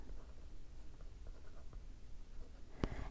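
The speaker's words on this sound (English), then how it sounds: "So we're going to write Glendale." A Mildliner highlighter pen scratches steadily across paper in soft, continuous strokes, faint and close, ending with a brief sharper tap near the finish.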